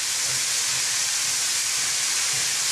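A 1939 Hunslet industrial steam locomotive in Yorkshire, in steam in October 1973, lets out a loud, continuous close-up hiss of escaping steam with a faint low chuffing pulse beneath it.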